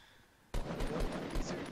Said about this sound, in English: he just shot at somebody that you couldn't even see